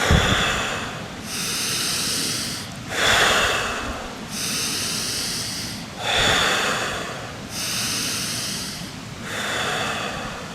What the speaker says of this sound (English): take a deep breath in, and clear it out